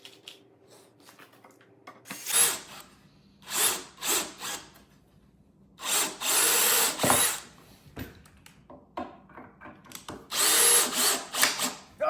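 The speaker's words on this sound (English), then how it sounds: "Let's drill out the last one." Power drill driving screws into a wooden door, with several loud whirring bursts of one to two seconds separated by quiet pauses, close and alone.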